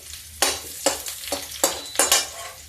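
Garlic and green chili hitting hot oil in a pan, with the gas turned low, giving short bursts of sizzling and stirring that flare up about four times and then settle between strokes.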